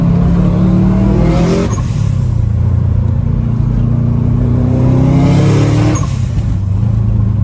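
Subaru WRX engine revving loudly up close, two rising surges of throttle that climb and fall back to a burbling idle, no talking.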